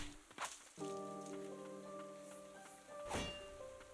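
Rain falls in the video game Ender Lilies, a soft hiss of patter with a sustained musical chord rising underneath and brief louder splashes, all fairly faint.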